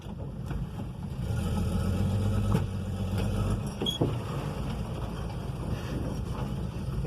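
A 1963 Plymouth Valiant drives slowly and turns around outdoors, a low steady engine rumble with wind buffeting the microphone and a few faint knocks, no voices.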